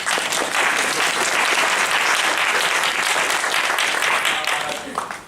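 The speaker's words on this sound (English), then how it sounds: "Let's applaud the wonderfulness of human beings." A large audience applauds loudly and steadily for several seconds, the clapping fading slightly at the end.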